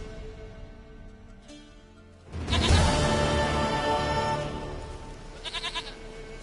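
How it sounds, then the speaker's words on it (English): A goat bleats in a video game: a loud broad cry rises suddenly and holds for about two seconds, then tails off, with quieter game ambience and music before and after. "Goat of mine, dearest,"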